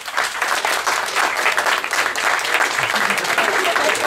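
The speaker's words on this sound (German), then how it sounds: "Mal Applaus" Lively audience clapping at a German stand-up comedy show, loud and continuous with an even, dense texture for about four seconds.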